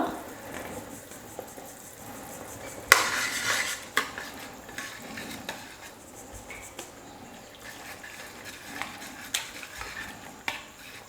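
Rice flour stirred little by little into boiling water in a pot for kozhukattai, with a spoon repeatedly clinking and scraping against the metal and a sharp knock partway through, close and alone.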